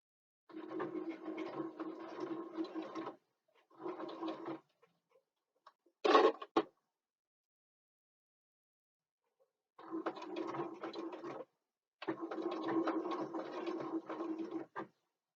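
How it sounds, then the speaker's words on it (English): A sewing machine runs in several bursts while back stitching a bookbag strap, with steady mechanical whirring, short pauses and silent gaps between runs and a brief sharp clack in the middle. "So we'll take it to the machine, and we're going to sew, and please back stitch,"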